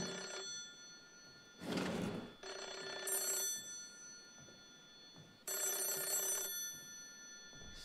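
An old-style telephone bell rings in the horror video game Hollow Cocoon, three separate bursts of ringing spaced apart over a quiet, dark background hum, fairly close and clear.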